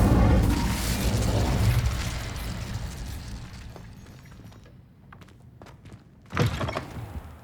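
Incendio fire spell cast in the video game Hogwarts Legacy, a loud whooshing burst that fades out, followed a few seconds later by a sharp thump and a crackling flare.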